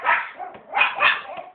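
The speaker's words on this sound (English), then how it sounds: "Evil dog." A dog gives a few quick, close yipping barks in a short burst, a sharp pair, a softer bark, then two more in fast succession, with no talking over them.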